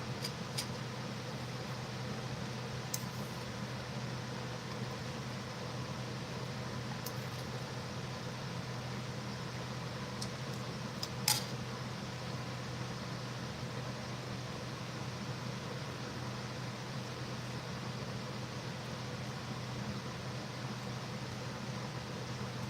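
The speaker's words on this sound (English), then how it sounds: "And you're hearing my heater cycle on. Same unit as my air conditioner." A heater running through the same unit as the air conditioner, a steady broadband whoosh and low hum filling the room, with a few faint ticks and no speech.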